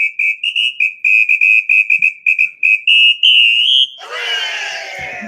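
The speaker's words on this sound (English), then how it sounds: "Let's do the samba whistle." A shrill samba whistle blows in a rapid rhythmic pattern of short bursts, then a long blast, followed by noisy cheering.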